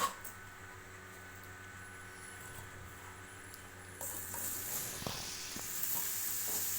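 Paneer frying in a spicy gravy in a pan, a soft continuous sizzle and hiss with a few scraping stirs toward the end, the frying growing brighter partway through.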